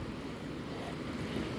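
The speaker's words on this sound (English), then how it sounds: "the waterfall" Steady rushing water from the Lower Duden Waterfall in Antalya, a dense, even roar with no distinct events, heard faintly and continuously.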